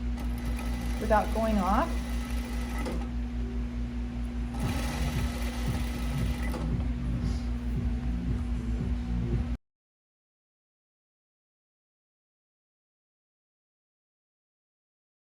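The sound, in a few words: sewing machine stitching a pajama shirt edge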